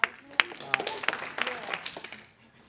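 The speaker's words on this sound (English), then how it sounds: "give yourself a round of applause" A group in a talk or workshop claps in scattered bursts, with a few sharp claps at the start that thin out and fade within a couple of seconds.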